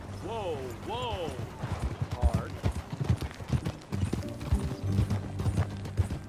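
Horse hooves clip-clopping in Red Dead Redemption 2, a steady rhythmic gait close by with a whinny early on and people talking over the hoofbeats.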